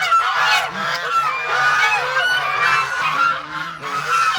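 Domestic ducks at a farmyard keep up loud, overlapping honking calls close by, with brief pauses between bursts and no speech.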